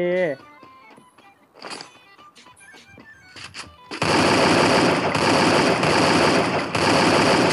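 Rapid automatic gunfire from a golden AK in Garena Free Fire, a dense loud continuous burst in the second half, preceded by sparse game sound effects and clicks.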